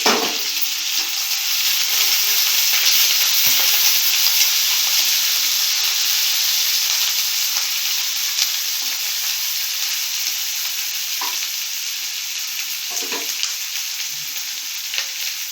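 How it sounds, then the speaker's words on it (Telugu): Mint, coriander and a sprig of curry leaves fry in a pan for a veg biryani, a loud steady hiss of hot oil with a few faint stirring knocks throughout. "ఇప్పుడు కొంచెం పుదీనాకు, కొంచెం కొత్తిమీర, 1 రెమ్మ కరివేపాకు వేసుకొని ఫ్రై చేసుకోవాలి."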